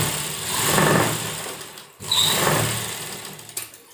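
Two short runs of sewing-machine stitching on a sleeveless blouse, each buzzing up and fading over about a second and a half, with a brief break between them.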